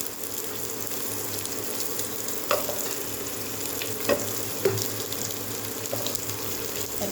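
Potato pieces fry in hot oil in a pan, a steady low sizzle running throughout with a few brief clinks and stirring taps at intervals, close by and with no talking.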